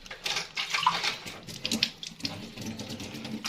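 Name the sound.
pouring a little water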